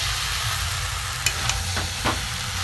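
Vegetarian curry spice paste frying in a pan, a steady broad sizzle with a few soft clicks of a stirring spoon, close and alone without voices.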